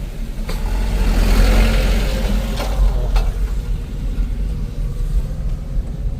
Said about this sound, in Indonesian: Oke, kita berpapasan dengan truk.